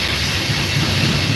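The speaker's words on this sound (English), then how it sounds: "Fucking trains, man. They're loud." Loud train rolling past close by, a steady dense rumble and hiss with a low rhythmic clatter throughout, no voices.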